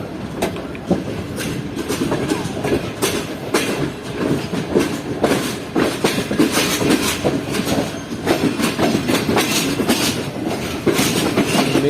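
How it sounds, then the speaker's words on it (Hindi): The Karachi Express passenger train runs on the rails in Pakistan, a steady rhythmic clickety-clack of wheels over joints with rumble and occasional squeal, heard from on board, loud and continuous with no talking. "मेन लाइन की तरफ बढ़ रही है इस वक्त ट्रेन।"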